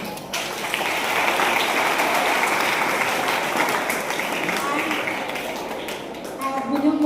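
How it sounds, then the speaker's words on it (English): An audience claps for guardians at a school general knowledge quiz, a dense, steady burst of applause that holds for several seconds and thins out near the end. "So please give a big clap for them."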